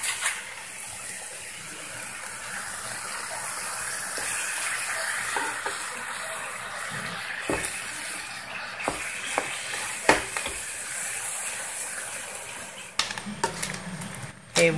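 Pork sizzles and fries in a pan over high heat, a loud continuous hiss with occasional stirring clatter and scrapes near the end.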